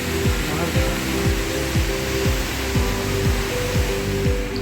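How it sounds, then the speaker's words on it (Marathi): The indoor waterfall at Jewel, Changi Airport roars as a loud, steady rush of falling water, with a low rhythmic mechanical hum running underneath. "एकंदरीतच प्रत्येक वरून हा वॉटरफॉल आपल्याला काही वेगळाच भासतो"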